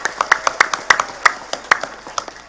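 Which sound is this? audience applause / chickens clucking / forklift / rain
audience applause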